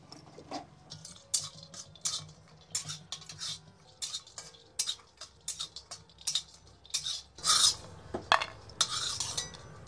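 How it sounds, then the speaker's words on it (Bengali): Almonds, raisins and cardamom stirred in a very hot dry wok, a series of quick scraping and clinking strokes, irregular and close, busier toward the end, with no voices. "এই যে কড়াই তো খুব গরম, তাই একটু নাড়াচাড়া দিয়ে নিচ্ছি"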